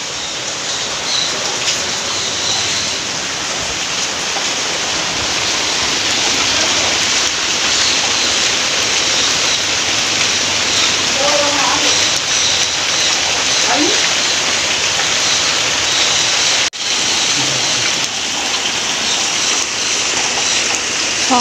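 A long spell of heavy rain roars in a dense, steady wash of falling water, loud and close, with a few faint incidental sounds and a brief dip near the end.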